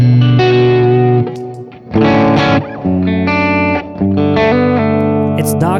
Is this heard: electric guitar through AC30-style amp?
yes